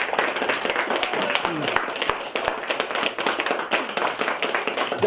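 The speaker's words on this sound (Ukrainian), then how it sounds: "давайте ще бурними оплесками подякуємо нашим артистам" An audience at a Ukrainian spring folk festival claps in a dense, uneven patter with some sharper claps standing out and voices faintly underneath.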